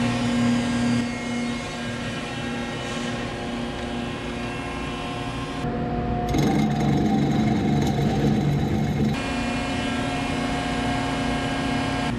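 A scallop hogged out of the end of steel chassis tubing for a two-seat tube-frame build, heard as a loud, steady machine whine and grinding roar that continues without pause, with no talking.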